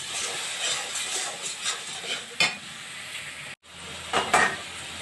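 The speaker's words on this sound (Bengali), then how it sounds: "এখন মশলাটাকে আমি ভালো করে কষিয়ে নেব।" Spices with chili powder, salt and a little turmeric sizzle and fry in a pan for a Bengali cauliflower, potato and pea dish, with steady scraping stirs, hissing and clinks of the pan throughout.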